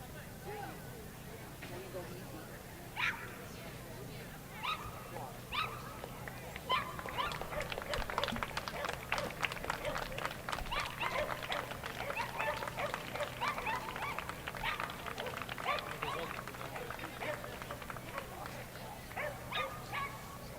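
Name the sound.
wire fox terriers at a dog show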